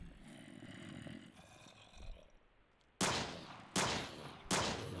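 Gunfire in the Minecraft mod The Crafting Dead: three sharp, loud synthetic shots spaced under a second apart ring out after a quieter stretch of game ambience.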